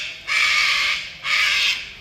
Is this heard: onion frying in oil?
no